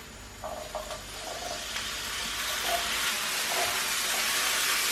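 Marrowfat peas tipped into a pan of frying onion, a soft continuous sizzle and hiss with a few light clicks and knocks of the peas landing, fairly quiet and close.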